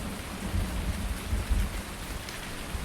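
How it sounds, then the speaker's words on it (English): Steady rain in the video game Farming Simulator 19 hisses continuously with low rumbling underneath, a dense even wash of falling water with no voices. "Is the rain stopping? I think it might be."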